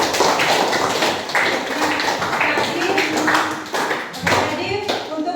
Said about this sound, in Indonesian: Iya, kita beri tepuk tangan.